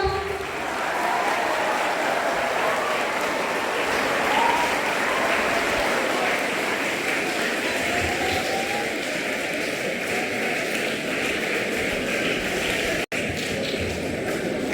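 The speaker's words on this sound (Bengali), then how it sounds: "জোরে হাততালি হয়ে যাক।" A crowd applauds at a school Labour Day staff felicitation, with loud, dense, steady clapping that runs without a break.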